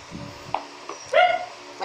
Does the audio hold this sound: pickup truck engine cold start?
no